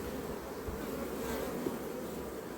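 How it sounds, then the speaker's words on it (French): Honeybees buzzing steadily around a beekeeper during a hive inspection, a dense close drone that holds without break, no talk. "il y a toujours des abeilles qui me tournent autour"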